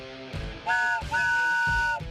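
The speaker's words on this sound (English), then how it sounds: "Nobody had the freight train. I didn't see Marv Allen or Bob Davis with a freight train whistle" A freight train whistle gives a few short and long blasts with a steady, reedy pitch, close and fairly loud, with no talking over it.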